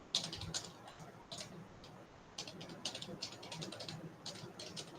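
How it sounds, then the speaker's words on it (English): Keys on a computer keyboard are tapped to enter an email address, faint irregular clicks in short bursts and pauses, fairly close and quiet. "I'm typing in the mail ID."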